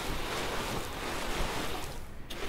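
Generous watering of crops in the farming game Lightyear Frontier, a steady broad rush of spraying water that runs continuously and fairly loud, with a brief dip near the end.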